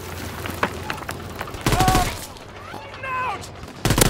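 Gunfire erupts in repeated bursts during a Call of Duty: WWII battle. Sharp automatic volleys alternate with lone shots, and mechanical whines and in-game voices run underneath.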